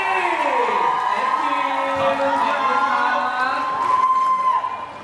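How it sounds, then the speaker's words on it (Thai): An audience at a stage event for The Marvels, featuring Freen and Becky, cheers and shouts loudly. The high-pitched, sustained crowd noise continues throughout, with some voices rising above it. "ขอเสียงปรบมือกับน้องเทนนิสนะครับฟินและก็เบกกี้"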